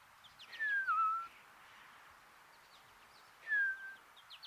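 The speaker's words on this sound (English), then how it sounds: "A lesser goldfinch shows up, smaller than the siskins, and calls plaintively" A lesser goldfinch gives two plaintive, slurred whistled calls a few seconds apart, clear and fairly near over a quiet background.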